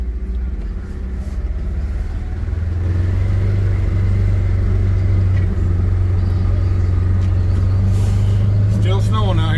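A small snow plow vehicle with a snow blade rumbles steadily at close range during heavy snowfall, its engine note rising slightly as it is put in gear and pulls away, with a brief squealing whine near the end.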